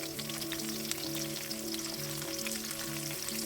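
Green chillies frying in hot oil with cumin and mustard seeds, a steady dense sizzle with scattered crackles and pops, close and continuous, under a faint tonal hum, with no voices.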